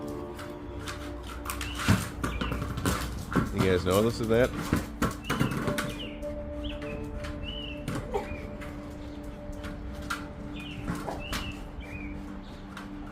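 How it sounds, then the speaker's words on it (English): Birds singing outdoors during the 2024 solar eclipse, with scattered chirps and calls heard faintly in the distance around and after a voice, along with a low steady background hum. "I noticed the birds started picking up their singing."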